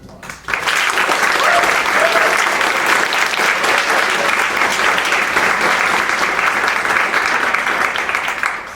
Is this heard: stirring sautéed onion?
no